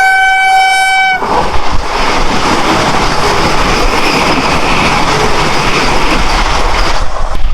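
A passing train blasts a loud horn, then rushes past at close range beside a train standing at the platform, a dense continuous roar of wheels and wagons that stays loud to the end.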